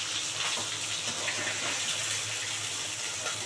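Steady heavy rainfall makes a broad, unbroken rushing hiss that stays at an even level throughout, close and without voices.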